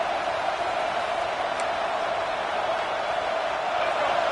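A college football stadium crowd at a Michigan versus Penn State game roars in a steady, loud, distant wash of noise with no break.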